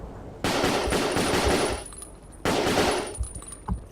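Tank weapons firing in Battlefield Vietnam, two loud sustained bursts of rapid automatic gunfire separated by a short pause, echoing out after each burst.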